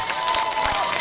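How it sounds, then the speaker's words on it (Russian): Audience applause and cheering for children at a Children's Day concert, a dense, steady crowd roar that fills the whole brief moment with no gaps. "Давайте эти аплодисменты подарим только детям"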